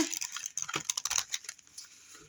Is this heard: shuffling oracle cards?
yes